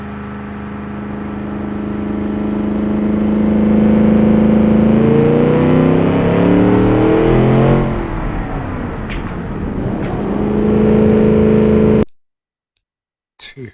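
A massively powerful hypercar engine in BeamNG Drive roars steadily on a test track, its pitch climbing and shifting, then cuts off abruptly near the end.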